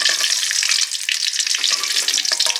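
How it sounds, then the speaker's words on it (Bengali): Whole cumin seeds dropped into hot oil, a loud bright crackling fry with rapid tiny pops, close and continuous, no voices. "তেলে দিলাম গোটা জিরে"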